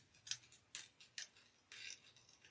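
Scissors cut through fabric for a bag pattern, four or five crisp separate snips close up, the last one a longer drawn-out cut, with nothing else heard.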